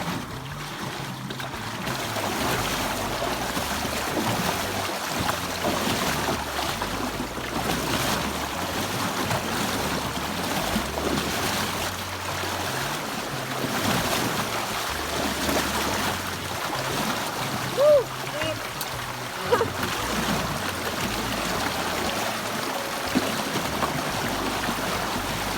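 Steady rushing water churns throughout, a strong, deep Canadian wilderness river current surging and splashing around legs wading knee-deep through it, with no talking.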